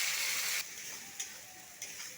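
Chopped onion and green chili with black cumin seeds stirred in hot oil, a bright sizzle that drops after a moment, with two soft spoon knocks against the pan.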